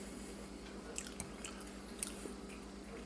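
Crunchy chewing of Boston baked beans, candy-coated peanuts, eaten close by. Faint, soft crunches and squishy bites come irregularly under a steady low electrical hum, with no talking.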